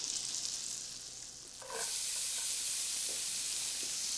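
Shallots frying in butter in a pan: a steady, bright sizzle that briefly dips and then surges louder as they hit the hot fat, with a few faint clinks, and no voice.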